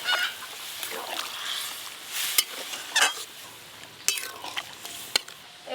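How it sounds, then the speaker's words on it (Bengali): Boiled kabuli chickpeas go into chana masala spices frying in a pan, bringing a loud sizzling burst followed by repeated clinks and scrapes of stirring, plus sharp clatters. "এই যে এবার ছকে দেব সেদ্ধ করে রাখা কাবলি ছোলা।"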